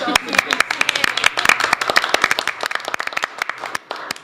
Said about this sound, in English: I just want to clap my hands